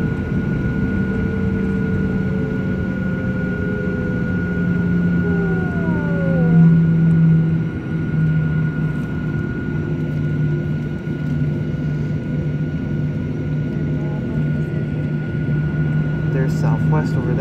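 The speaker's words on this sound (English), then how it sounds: "We are getting ready to take off pretty soon as we are taxiing to the runway" Steady jet engine whine with a low rumble from inside an American Airlines Boeing 737-823 taxiing to the runway at Phoenix, a continuous near cabin drone with a rising tone partway through.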